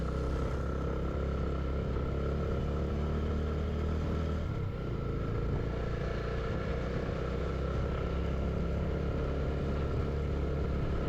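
Motorcycle ridden along a mountain road in North Sikkim toward Lachung, its engine a steady loud drone with wind rush throughout and a brief dip midway, no voices heard.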